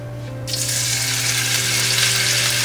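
Applewood smoked bacon dropped into hot oil bursts into a loud, steady broadband sizzle that holds without a break after a quiet start, with a low hum underneath.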